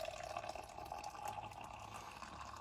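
Hot water poured into an AeroPress holding ground coffee, a faint, steady trickling and filling sound with a soft hiss, quiet and continuous with no talk.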